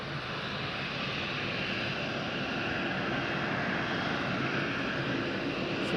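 A Bombardier aircraft at windy Madeira Island Airport gives a constant, even engine roar, broad and unbroken from start to finish, fairly distant, with no voices.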